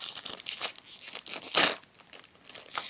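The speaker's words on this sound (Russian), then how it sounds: "Давайте откроем этот пакетик." Close, crisp crinkling of a small plastic collectible packet being handled and torn open, with a sharper rip partway through.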